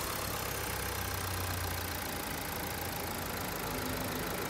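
A steady low engine rumble idles continuously, close and unchanging, with no voices or other sounds over it.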